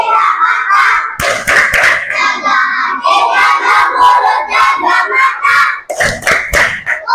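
Group of students performing the tepuk puasa clapping chant in a classroom, loud rhythmic claps in patterned bursts with voices chanting along in unison, close and energetic.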